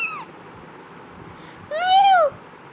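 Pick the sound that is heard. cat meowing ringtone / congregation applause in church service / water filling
cat meowing ringtone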